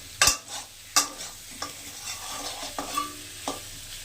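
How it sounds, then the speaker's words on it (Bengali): Raw pumpkin frying in a pan with a garlic tempering, stirred with several sharp scraping strokes over a steady sizzle, close and fairly loud, with no voices. "হয়ে গেছে কাঁচা কুমড়ো রসুন ফোড়ন দিয়ে ভাজা।"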